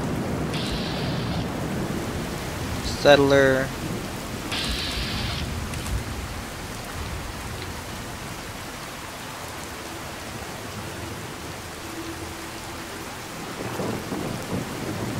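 Steady rain pours through a thunderstorm in the video game Fallout 4. A loud crack of thunder breaks in near the start, then the downpour hisses on evenly, with a brief voice at the opening.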